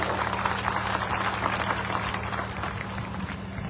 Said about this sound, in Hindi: स्वागत करें, जोरदार ताली।